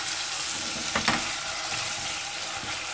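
Chunks of meat and tomato paste sizzle and fry in a pot for pea stew, a steady dense crackle close up with a brief stir or scrape near the middle.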